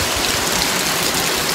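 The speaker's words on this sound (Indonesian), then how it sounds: "Ternyata harinya hujan guys" Steady, dense hiss of rain falling in Central Kalimantan, close and fairly loud, a continuous wash of drops with no voices.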